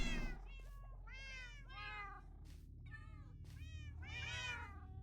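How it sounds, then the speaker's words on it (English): Several cats meowing in the Minecraft video game, a series of distinct, clear meows at an even pace, overlapping at times over a low steady background hum, with no talking. "There's a lot of cats."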